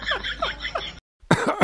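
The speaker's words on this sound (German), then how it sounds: "Ihr Husten ist ja sogar noch schlimmer geworden." Coughing in a comedic Playmobil skit, a series of short rough coughs, a brief pause, then another burst of harsh coughs close up.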